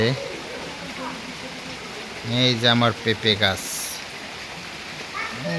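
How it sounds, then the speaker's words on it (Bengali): Heavy rain falls in a village, a steady wash of hiss beneath someone speaking close by in the middle. "আজকের অনেক বৃষ্টি হচ্ছে।"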